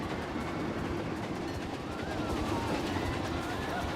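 Trains run on a roller coaster park track in the video game Planet Coaster 2, giving a steady, dense rolling rumble throughout while a person talks over it.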